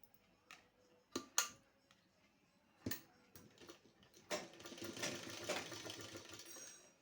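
A sewing machine stitches a blouse sleeve up close, starting with a few sharp isolated clicks and knocks, then settling into a faint, continuous rapid mechanical whirr toward the end, with no talking.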